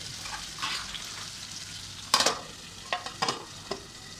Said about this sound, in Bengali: আবার মাছটাকে একটু নেড়ে দেবো